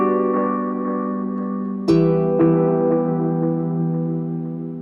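Electric guitar run through a Therme effect without the Bat Sim, sustained chords with a fresh strum partway through and another accent after, ringing out and slowly decaying, close and clear with no talking.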